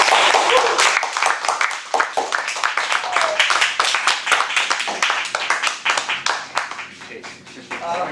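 A Toastmasters club audience claps after a speech, a loud crowd of hands, some with sharp individual claps, fading unevenly toward the end while people talk over it.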